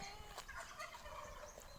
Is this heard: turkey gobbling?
yes